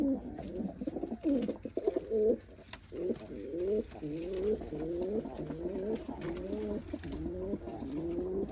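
Kept pigeons coo in pairs inside a loft, one rolling call after another in a steady close rhythm, with faint soft chirps between them.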